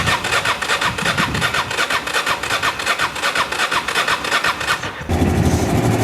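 A Honda XRV750 Africa Twin motorcycle, revived after ten years in storage, cranks with a rapid pulsing starter whir for several seconds before the engine catches and settles into a steady running rumble.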